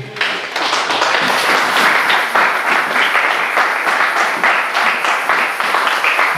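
A church congregation applauds loudly and continuously in acclamation of the word of God, a dense, steady wash of many hands clapping close by for the whole stretch.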